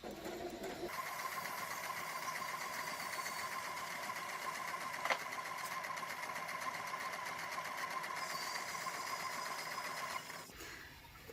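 A sewing machine stitches a seam down the side of a fabric box pleat mask, a steady, close mechanical whir running continuously for about ten seconds before stopping.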